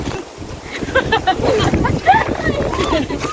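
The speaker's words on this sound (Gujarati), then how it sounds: "પવન બહુ આવે પવન જેટલો બધો આવે છે" Strong wind buffets the microphone outdoors in a village field, a steady roaring rush that swells and gusts throughout while people talk over it.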